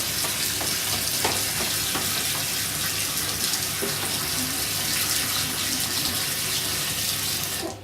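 A homebrew kit beer mixture is stirred in a fermenter, with continuous close sloshing and swishing of liquid and occasional light knocks, and no voices.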